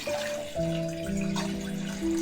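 Water pours into a pot on a stove, a close, steady stream whose pitch climbs in short steps as the pot fills, lasting a couple of seconds with no talking.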